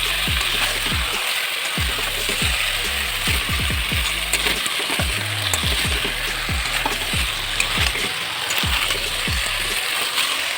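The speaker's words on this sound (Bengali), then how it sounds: "এবার আমি মাংস দিয়ে দিলাম" Chicken pieces, a Sonali breed, sizzle and fry with spiced masala in a pan, with a steady crackling hiss broken by repeated scraping stirs; close and loud, no talk.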